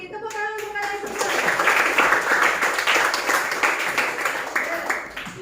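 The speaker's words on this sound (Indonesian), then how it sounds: "Tepuk tangan untuk kalian semua" A classroom of students claps in sustained applause, loud and close for several seconds, with a voice over the start and children's voices mixed in.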